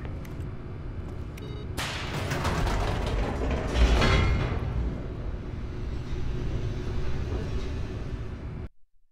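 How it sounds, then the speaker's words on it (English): An elevator mechanism in The Stanley Parable video game rumbles and grinds steadily for several seconds, swelling in the middle, then cuts off abruptly, heard alone without talk. "And more elevators!"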